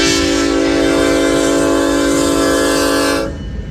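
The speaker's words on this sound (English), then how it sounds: "And here comes the eastbound on the Creston sub for BNSF." Eastbound BNSF loaded coal freight on the former Burlington CB&Q line at Pacific Junction, Iowa, blasting a loud, sustained multi-chime horn close by, with rumbling wheel noise underneath until the horn cuts off near the end.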